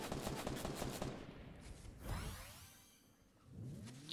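Rapid gunfire in a shooter video game, with a sniper firing from a distance at a work-outing team match: a dense run of repeated shots, then a whooshing sweep and quieter rumbling before more firing returns.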